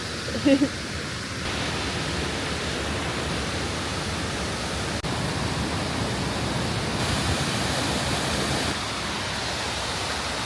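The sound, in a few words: Swallow Falls waterfall, North Wales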